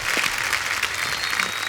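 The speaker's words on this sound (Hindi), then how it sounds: "जोरदार तालियां" Studio audience at a comedy talk show clapping loudly and steadily for two film stars, a dense sustained burst of applause with no speech over it.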